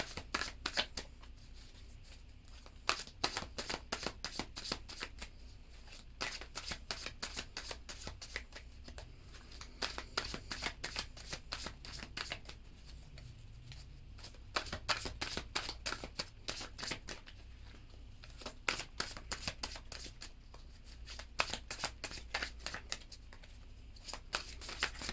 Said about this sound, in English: let's give everything a real good shuffle